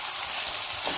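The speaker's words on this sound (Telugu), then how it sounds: "ఇప్పుడు వంకాయల్ని యాడ్ చేసుకుందాము. నూనెలో వేసుకుందాము. చూడండి, ఈ ఆయిల్లో బాగా ఈ వంకాయలు డీప్ ఫ్రై అవ్వాలి." Eggplant pieces deep fry in oil, giving a dense, even hiss of bubbling that stays close and constant through a brief moment.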